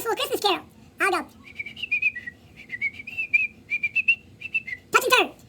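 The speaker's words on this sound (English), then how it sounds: "I would whistle a Christmas carol" A person whistles a Christmas carol in short melodic phrases. Brief bursts of speech come before and after the tune.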